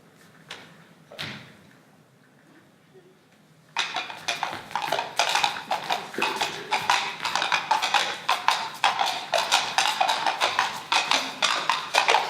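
Horses clip-clop in a staged school jousting scene, a steady run of loud, close hoof-like knocks starting after a quiet opening with a few faint taps.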